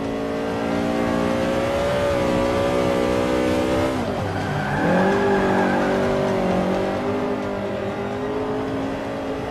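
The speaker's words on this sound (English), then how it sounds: "That's not a bad drift in a Beetle" A VW Beetle 2.0L rear-wheel-drive with a Civic engine drifting in Forza 5 on an Alpine road, its engine droning steadily with pitch swoops as it slides through a corner, with a tire squeal mixed in, loud and close.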